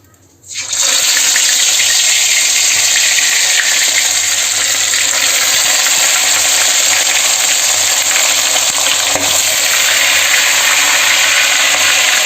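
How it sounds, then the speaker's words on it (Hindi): Fish dropped into hot oil for a homestyle fish saag sets off a sudden, loud, steady sizzle that keeps going without a break, with a faint voice barely audible underneath. "तो ये तेल भी गरम हो गए भाई अब मैं डाल दूँ मछली ला"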